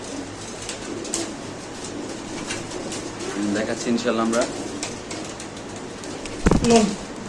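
Pigeons coo in the background at a Bangladeshi pigeon market where fantail and other breeds are sold, soft repeated calls under steady nearby conversation and a brief loud bump near the end.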